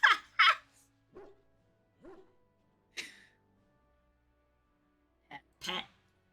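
A dog in the video game Dragon Age: Origins gives several short, separate barks and yips with quiet gaps between them, close and clear.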